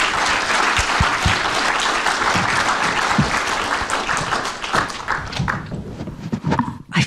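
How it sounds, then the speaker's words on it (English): A hall audience at a silver jubilee celebration of postgraduate studies in applied spirituality in Dublin claps loudly and steadily, the applause thinning out near the end. "Give them both a big round of applause,"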